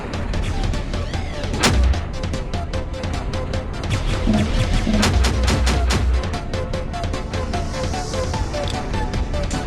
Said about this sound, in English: Time RC explosion.